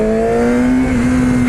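A 2016 Yamaha R6 sport motorcycle with its stock exhaust pipe drones close and loud at a steady high rev, a strong unbroken engine tone with no voices over it.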